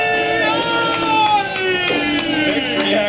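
A studio crowd at a movie trivia competition erupts in sustained cheering and shouting, loud and continuous throughout, with mixed voices and occasional whoops.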